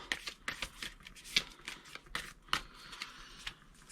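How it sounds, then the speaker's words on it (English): Close, quiet riffling and snapping of playing cards being shuffled in short irregular bursts, with no talking. "These cards are hard to shuffle."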